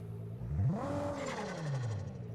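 A turbocharged car engine in the Test Drive Unlimited Solar Crown racing game revs up sharply in one rising surge that peaks and then falls away, with loud, close engine tone and no talking.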